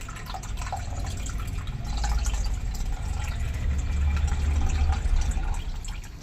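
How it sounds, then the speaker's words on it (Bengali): Cold water pours and splashes continuously as fresh chhana curd is rinsed in a bowl, a steady close wash with small drips throughout. "এবার ছানাটা একটু ভালো করে ঠান্ডা জল দিয়ে ধুয়ে নেব"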